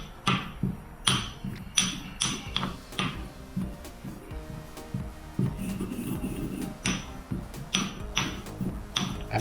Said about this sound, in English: first time using a mortar and pestle